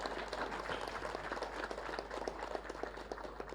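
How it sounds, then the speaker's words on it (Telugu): An audience at a panel discussion applauds, a faint, steady patter of clapping that runs evenly through the whole stretch, with no voices over it. "అందరం చప్పట్లు కొడదాం."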